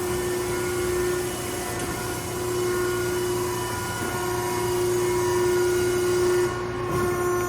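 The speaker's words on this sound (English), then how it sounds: "175-ton by 14-foot overall Wysong hydraulic press brake. Currently actuating via the foot trip." A Wysong 175-ton, 14-foot hydraulic press brake, triggered by its foot trip, gives off a steady hydraulic hum with a strong tonal drone. A faint clunk near the end marks it actuating.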